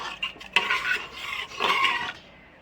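A spoon stirs urad dal with turmeric, garam masala and oil in a pot, clinking and scraping against the metal in two bursts, close and fairly loud, with no voices.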